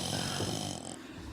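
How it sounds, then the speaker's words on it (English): A recorded snore sound effect plays during a podcast, one short nasal rumble lasting about a second before trailing off, alone and at moderate volume. "I need a snore button."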